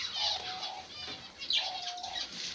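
Budgerigars released in a breeding aviary flap their wings in quick, fluttering bursts, with soft chirps and a thin whistle-like call mixed in, fairly close and moderately quiet.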